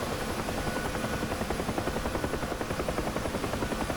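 A helicopter's steady rotor chop and turbine whine in a flight simulator game fill the clip, loud and constant with a fast rhythmic beating and no voices.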